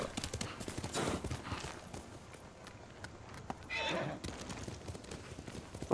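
A horse whinnies loudly while hooves clop in a quick, steady rhythm in the game Ghost of Tsushima, close, with a voice speaking alongside.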